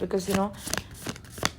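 Stiff tarot cards are shuffled in several quick riffling bursts, close by, while a person speaks briefly between them.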